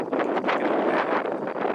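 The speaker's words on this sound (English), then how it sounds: "It's a little bit windy." Gusty wind buffets the microphone in a steady roar, with a few louder rushes and no voices.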